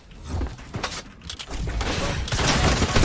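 Gunfire in a video game's fast-paced firefight, including a newly acquired shotgun, with sharp bursts and a dense rattling of shots building toward the end, loud and close, with no talk over it.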